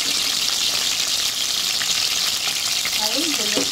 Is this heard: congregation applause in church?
no